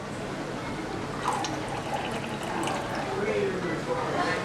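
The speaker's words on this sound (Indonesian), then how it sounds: "kemudian kita tambahkan 30 mili Aquades." Distilled water poured into Murashige and Skoog culture medium in a university biotechnology lab, a light trickling pour under a speaking voice.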